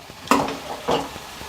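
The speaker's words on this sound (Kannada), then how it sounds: "ನೋಡಿ, ನಾನು ಒಂದು 2 ನಿಮಿಷ ಇದನ್ನು ಫ್ರೈ ಮಾಡ್ಕೊಳ್ತಾ ಇದ್ದೀನಿ" Masala seasoned with salt and chili powder fries in a pan for paneer masala gravy, with a soft sizzle broken by two close scraping stirs.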